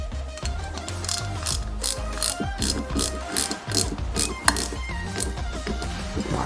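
Repeated ratcheting clicks of a screwdriver driving a small PS02 screw into plastic parts of a Bugatti Veyron 16.4 Super Sport scale model, close and steady in quick bursts.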